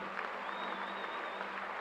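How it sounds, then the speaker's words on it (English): Crowd applauding at a graduation ceremony, a dense, continuous patter of clapping from a large audience with a faint tone running through it. "Now hear the crowd."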